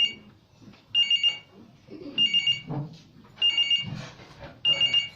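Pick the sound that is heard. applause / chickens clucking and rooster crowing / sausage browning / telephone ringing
telephone ringing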